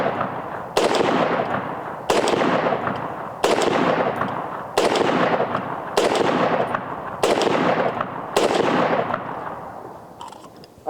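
Loud rifle shots ring out from an AR-15 fitted with a Bear Creek 7.62x39 upper firing American-made ammunition, seven or eight evenly spaced cracks about 1.3 seconds apart, each followed by a long echoing decay outdoors.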